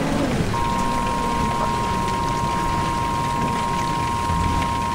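Hail pelts down steadily during a tornado storm, a dense, continuous patter of hard drops on surfaces with a low rumble underneath and a faint steady tone running through most of it, no voices.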